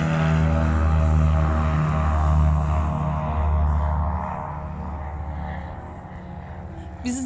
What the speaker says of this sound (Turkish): Valla biri iniyor, biri kalkıyor.